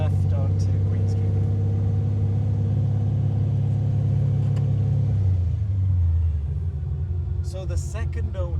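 A 1980 Chevy Camaro Z28 restomod with gear drive rumbles while driving: a deep, steady engine drone heard from inside the car that eases off near the end, with people talking over it.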